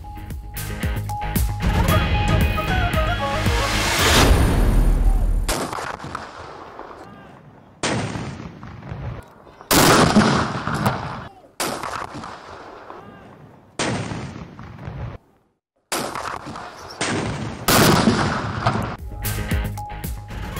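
A ceremonial cannon salute for Pakistan Day, fired at the federal and provincial capitals, follows a few seconds of music: a series of about eight loud, booming shots spaced roughly two seconds apart, each decaying quickly into the next.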